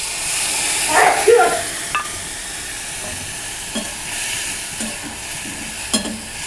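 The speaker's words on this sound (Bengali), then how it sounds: "মশলাটা একটু কষাবো" Spice paste sautéing in a pan, a steady sizzle under scraping stirs that swell near the start, followed by a few sharp utensil knocks against the pan.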